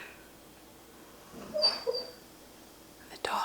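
A sleeping dog dreams, giving soft, brief whimpers and muffled yips in two small bursts over a quiet room, with faint whispery sounds nearby.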